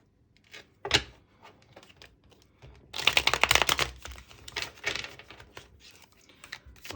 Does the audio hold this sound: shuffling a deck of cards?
yes